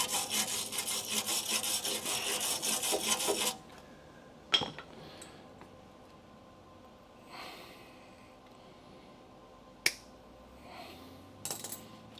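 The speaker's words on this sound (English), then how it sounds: "I'm gonna grind this all smooth" Grinding welded filler metal smooth on a Dodge Charger crew cab body during restoration: a loud, harsh abrasive burst for about three seconds, then stops, followed by a few sharp metallic clanks and clicks in a quiet shop.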